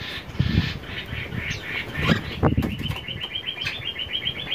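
A starling gives a quick run of repeated chirps, close and fairly clear, over a rumbling, noisy background.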